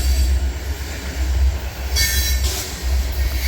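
Freight train led by E&D locomotives rolls past close by with a steady heavy rumble of railcars and bursts of wheel squeal, loud and continuous with no voices.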